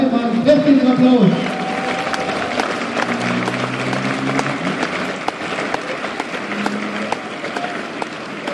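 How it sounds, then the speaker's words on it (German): Outdoor crowd at a Monday demonstration vigil in Leipzig claps steadily, a dense patter of hands that carries on under a voice. "Herzlichen Applaus."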